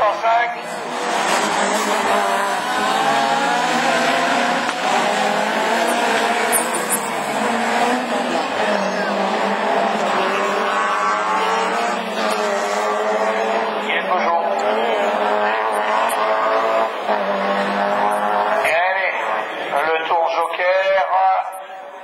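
A Peugeot 205 Division 4 rallycross car races at full attack, its engine roaring loud and continuous through the whole stretch, with a commentator talking over it.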